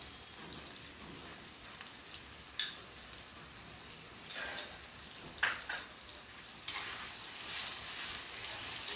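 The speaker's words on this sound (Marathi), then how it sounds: "आता मी शिमला मिरची टाकतो ह्याच्यात" Capsicum fries with besan in a pan, giving a soft steady sizzle and crackle, with a few sharper scraping stirs and spatters now and then, quiet and close.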